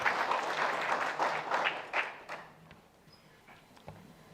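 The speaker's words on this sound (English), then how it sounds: "Can you give the President a round of applause" An inauguration ceremony audience applauds the President in a loud burst of clapping that fades after about two seconds, leaving a few scattered claps and quiet room tone.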